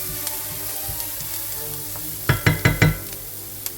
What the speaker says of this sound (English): So just cooking the onion.